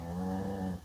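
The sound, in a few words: dog snoring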